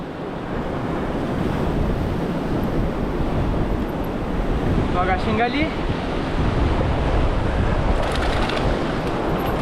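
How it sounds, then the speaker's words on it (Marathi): Heavy surf of a rough sea near Mumbai rolls and crashes continuously, loud and close, with wind buffeting the microphone and someone speaking briefly over the roar during cast net fishing. "हे बघा चिंबूर आपलं लाटा जबरदस्त आहे"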